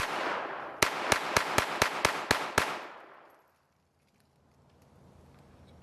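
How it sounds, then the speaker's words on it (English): Eight quick sharp cracks from a Glock 44 .22LR pistol fired at a fairly even pace, each shot close and loud, followed by fading echo and then near silence. "So let's run some more shots real quick."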